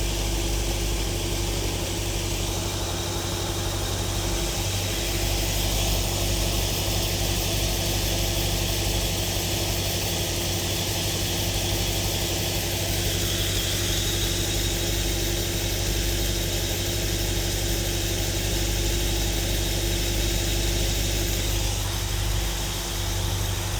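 A carburetted Aston Martin Lagonda Vantage engine idles steadily and fairly close after its carburettors and air-fuel mixture have been tuned, a continuous low hum with a slight unevenness and no talk.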